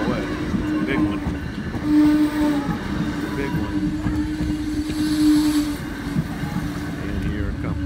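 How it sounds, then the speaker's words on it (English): A double-decker commuter train from Providence to Boston rolls through Mansfield station on electric tracks, a steady loud rumble with a sustained horn-like tone rising and fading as it passes. "Here's the commuter train to Boston from Providence."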